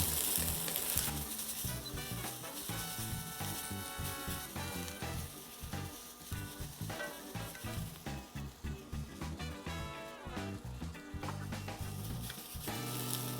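Fideo noodles browning in a hot pan give a steady, dense sizzle, with stirring scrapes and clinks breaking in now and then. It runs loud and continuous with no one speaking.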